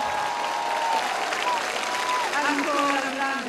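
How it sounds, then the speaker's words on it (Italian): Sustained applause from an outdoor concert crowd in Torre Paduli, a dense roar of clapping with a voice speaking over it and some whistles or cheers. "Sai, raccogli ancora l'applauso di Torre Paduli."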